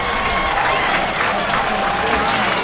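Baseball crowd at a Victoria HarbourCats summer-league game against the Bellingham Bells, cheering and applauding a leadoff double, a steady dense roar of clapping and shouting that holds at full loudness throughout.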